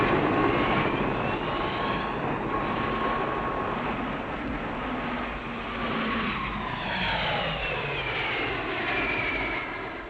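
Aerobatic squadron fighter planes fly low in precision formation at an air show, a continuous loud jet roar swelling and fading as they pass, with faint pitch sweeps overhead.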